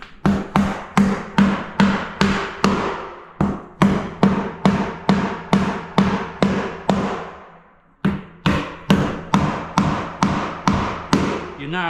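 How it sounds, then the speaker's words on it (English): A hammer drives nails into cement sheet laid over tongue-and-groove flooring, a close loud run of sharp regular blows in quick rhythmic series with a brief pause midway. "So now I'm nailing it off."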